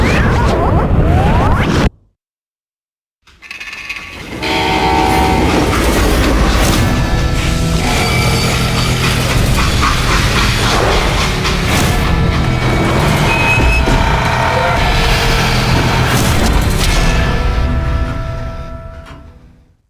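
Loud, dense action-game rumble from a train sequence in the Western shooter Call of Juarez: Gunslinger, with booms, whooshes and crashes layered over a heavy continuous roar after a brief silence.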